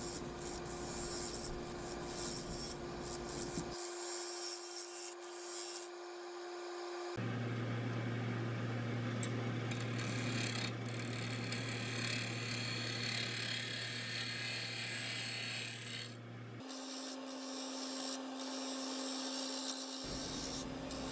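A wood lathe spins a platter at about 800 RPM with a steady motor drone, while a tool makes light passes that produce continuous close rubbing and scraping, shifting in pitch as the cuts change.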